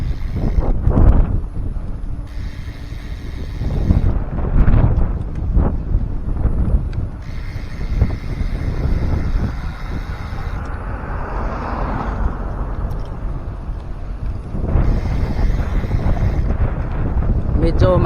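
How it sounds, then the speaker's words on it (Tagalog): Strong wind buffets a microphone outdoors at Vermosa, a loud, constant roar with gusty surges throughout, while a person talks over it. "Medyo maingay yung hangin, no?"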